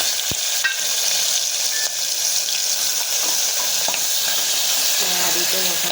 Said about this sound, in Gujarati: આ રીતે વઘાર કરીશું આપણે.